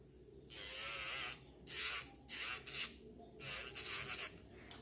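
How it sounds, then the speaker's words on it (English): A file rasping across a stiletto-shaped fingernail in a series of strokes, one long pass followed by several shorter bursts of scratchy rubbing separated by brief pauses. "I'm filing a little bit different than I would normally because I'm filing my own"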